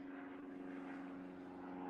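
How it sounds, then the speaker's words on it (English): An airplane flying overhead gives a steady, droning propeller hum that holds evenly throughout, faint and somewhat distant, with no talk. "There's that loud plane again."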